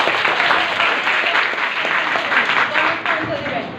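A classroom full of students claps for the winner of a speech competition, with a dense, steady wash of applause for several seconds and voices talking over it.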